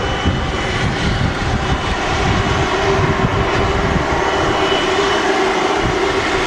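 An Air Canada airliner at Manchester Airport gives off a loud, steady engine roar that holds at a constant level throughout, with no voices.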